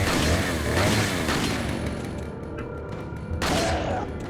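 A burst of gunfire and heavy booms erupts in the 2005 Resident Evil 4 video game, loud and dense at first, easing off, then flaring again with another sharp crack.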